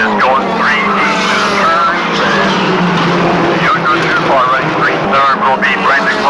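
Race cars roar past on an oval racetrack during the first lap under green, engines and tires loud and continuous with a fluctuating pitch as they come down the back straightaway, while an announcer talks over them.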